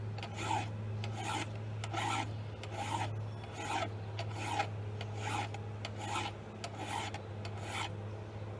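A hand file rasps across a chainsaw chain in steady, evenly spaced strokes, close and clear, with a constant low hum running underneath and no talking.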